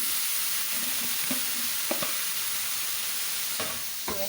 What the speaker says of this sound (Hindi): तो ऐसे मिक्स करते हैं पहले।